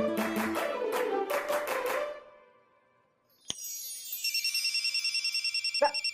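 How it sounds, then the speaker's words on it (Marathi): After a burst of clapping-like beats and a brief silence, a telephone in a Marathi TV serial scene starts ringing with a rapid, pulsing electronic trill that repeats steadily and sounds close. "ग्लास घे पटकन. फोन आला."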